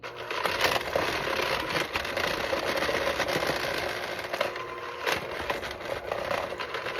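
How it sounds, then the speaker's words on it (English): An electric mixer beats shortbread cookie dough of butter and powdered sugar, giving a continuous close, gritty whirring and grinding that holds steady for the whole stretch with small ripples in intensity. "we are going to go ahead and beat with an electric mixer until light and fluffy"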